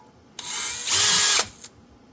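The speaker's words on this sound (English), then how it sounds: "Okay, I'll drill it again." A power drill drilling aircraft trim tab metal for a rivet whirs up briefly, rises to a higher-pitched spin for about half a second, then cuts off, close and loud.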